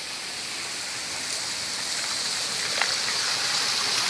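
Water rushes steadily in a continuous hiss, a nearby clear stream flowing on farmland in Nagcarlan, Laguna, with no voices.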